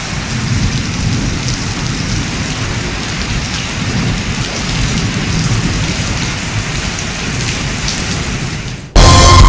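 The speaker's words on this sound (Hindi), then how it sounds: "रात गए मूसलाधार बारिश से जल थल एक हो गया" Torrential overnight rain pours heavily and steadily with rolling thunder, loud and close, before cutting off abruptly near the end into a different sound.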